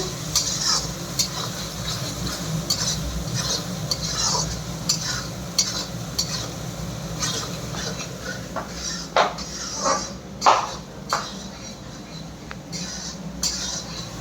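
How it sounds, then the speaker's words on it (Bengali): Spice paste with chili powder and meat masala is stirred in a pan for a restaurant-style chicken curry, giving a steady low sizzle with repeated spoon scrapes and clinks against the metal. "দিয়ে এখন এটা মশলাটা কষাচ্ছি"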